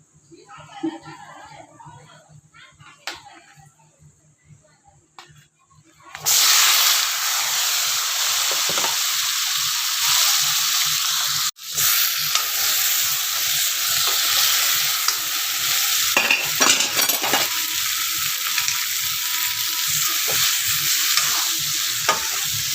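Eggplant hits hot spiced oil: after a quiet stretch with soft talking, a sudden loud sizzle bursts in and carries on steadily, with stirring scrapes and a brief break partway.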